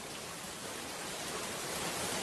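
Cartoon rain effect: a dense, constant hiss of heavy rainfall, broadband and unbroken, loud and even throughout with no other sounds.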